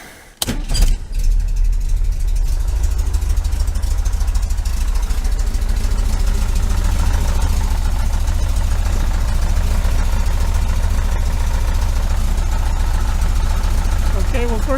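A 1973 VW Super Beetle engine fitted with a Dellorto FRD 34B carburetor and balance tube, starting with a few sharp bangs and then idling loudly and steadily up close.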